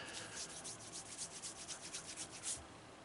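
Hands rub beard butter made with almond oil and coconut oil between the palms, giving a soft, continuous close-up swishing with gentle rhythmic strokes, fairly quiet and with no talking.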